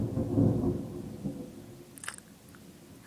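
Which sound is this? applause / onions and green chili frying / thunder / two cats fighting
thunder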